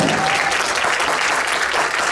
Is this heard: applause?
yes